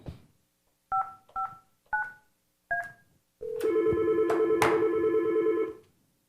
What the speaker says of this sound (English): That means her phone is ringing.